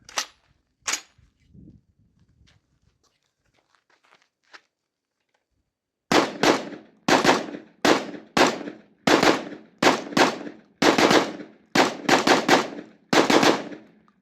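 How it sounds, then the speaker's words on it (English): A Genesis 12 shotgun fires BMP 1250 shells: two sharp shots near the start, then a fast string of about ten loud, close reports at a steady, rapid rhythm, with quiet handling noises between. "Try to burn these shells up because I don't have enough to shoot in a competition."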